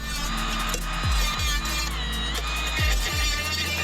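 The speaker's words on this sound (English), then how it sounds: "Public service announcement, these little Tool Pro die grinders are the bomb." Small Tool Pro die grinder cutting through car body metal on a MK3 Toyota Supra being swapped to a BMW N54: a steady, loud high-pitched whine with repeated low thuds and bumps as the cut progresses.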